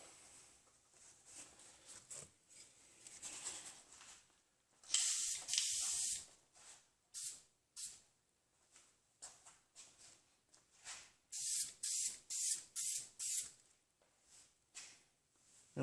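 An aerosol can spraying primer onto a 2004 Mini Cooper S rear bumper under repair, in repeated short hissing bursts separated by pauses, close and fairly loud.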